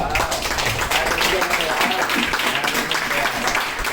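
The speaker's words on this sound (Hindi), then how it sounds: "ये तीनों उपलब्धि के लिए जोरदार तालियां हो जाए" A gathered audience gives loud, continuous applause for three achievements, the clapping dense and steady throughout with a voice briefly mixed in.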